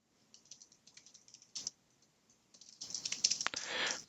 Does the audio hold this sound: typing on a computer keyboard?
yes